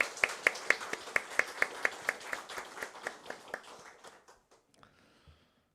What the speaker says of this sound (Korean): 우리 따뜻한 마음 담아서 환영의 박수 하겠습니다.